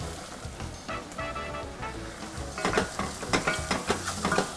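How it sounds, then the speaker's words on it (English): Chopped spinach stirred into a pan of nearly cooked pasta with the heat switched off: soft wet rustling and stirring, then louder, sharper clatters and scrapes of the utensil in the pan during the second half, close by with no talking. "Now we're going to add the chopped spinach into this."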